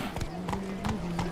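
Roach, the horse from The Witcher 3: Blood and Wine, trots with steady clip-clop hoofbeats, about four even strikes close by, over a low ambient hum.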